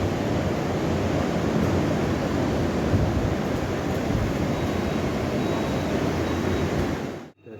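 Sea surf in front of a beachfront hotel in Puri, a steady loud broadband roar of breaking waves filling the whole stretch before cutting off at the end.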